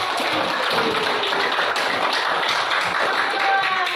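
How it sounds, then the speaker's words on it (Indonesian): A classroom group receives applause after presenting, with steady clapping from the students that fills the room for a few seconds at moderate loudness. "Kasih aplaus dulu untuk kelompok."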